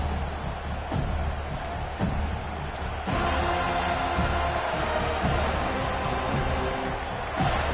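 Football stadium crowd at a Florida State versus Ole Miss college game, a steady, loud roar of fans filling the background with periodic sharp thumps and swells.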